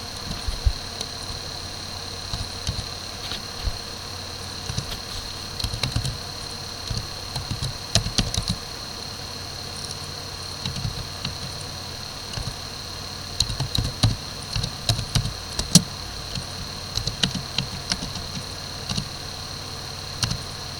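Typing on a computer keyboard while entering an accounting tax entry: sparse, faint key clicks in irregular bursts over a steady low background hum, with no voices.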